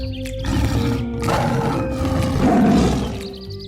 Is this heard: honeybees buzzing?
no